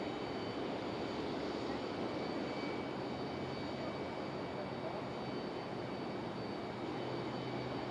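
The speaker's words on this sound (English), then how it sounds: "So here's our American coming in from DFW" American Airlines plane arriving from Dallas–Fort Worth at Raleigh-Durham airport, a faint steady jet roar heard from a distance, with broadband wind-like noise and no clear talk.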